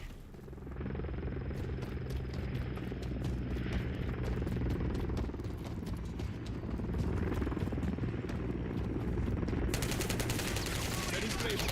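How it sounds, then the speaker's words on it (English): An enemy overwatch helicopter in XDefiant brings sustained rapid automatic gunfire over a continuous low rotor rumble, loud and dense for the whole stretch. "Enemy overwatch helo inbound."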